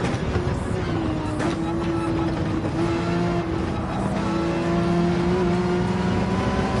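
Race car engine droning steadily in Gran Turismo 7, a sustained tone rising and falling with throttle under continuous road and tire noise, with other cars on track nearby.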